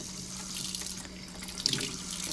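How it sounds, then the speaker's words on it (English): Tap water runs steadily into a kitchen sink while lemons and cucumber are rinsed under it, a continuous close splashing stream with no talk. "let's go take it to the sink and start rinsing them out completely"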